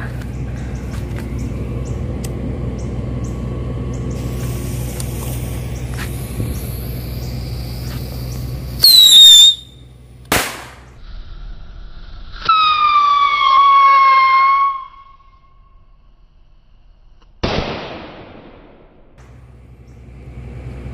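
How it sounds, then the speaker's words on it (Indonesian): Petasan firework rockets launch with high whistling tones that glide downward, broken by sharp, loud bangs, over a steady low rumble that cuts out partway through. "Sekarang kita coba roket yang ketiga."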